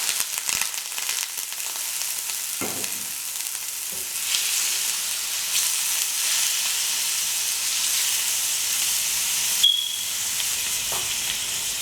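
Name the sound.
shrimp sizzling in hot oil in a pan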